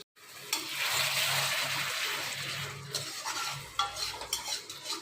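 Masala for a potato paneer curry sautés in a pan, a soft sizzle under repeated scraping stirs of a spatula, with light metallic clinks, close and fairly quiet.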